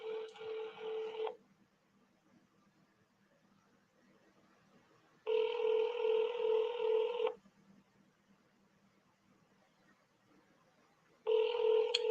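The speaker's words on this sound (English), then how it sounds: "I'm trying to call to you. Can you answer the phone, please?" Telephone ringing on an unanswered call, loud, steady ring bursts with long silent gaps between them: one at the start, one in the middle and a third at the end.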